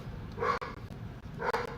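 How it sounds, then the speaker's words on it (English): A dog barks indoors a short distance away, two separate bursts of barking about a second apart, moderately loud over a quiet room background. "tell my dog to shut up"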